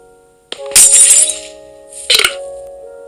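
Glass block shattering in the Minecraft video game: two sharp breaking crashes with tinkling fragments, the first longer and louder, the second shorter, set over a steady faint background tone.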